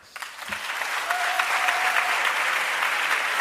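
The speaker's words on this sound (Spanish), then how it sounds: "Por favor, démosles un aplauso" Applause for Axel Kaiser swells quickly from a few scattered claps into a full, loud, sustained ovation from a seated audience, no talking.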